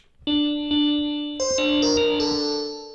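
An Oberheim OB-6 analog synthesizer plays sustained, buzzy held notes that shift pitch a few times, with a distorted, chorused, resonance-heavy effect coloring the tone; no voices.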